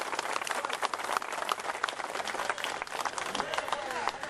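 Dense, sustained applause from an audience at an event honouring a person, steady clapping throughout with a faint voice or two underneath.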